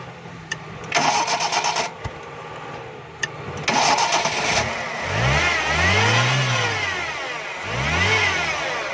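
A 1996 Toyota Corolla 12-valve engine revs up repeatedly in rising and falling surges, loud and close, with brief bursts of revving before settling into longer sweeping revs.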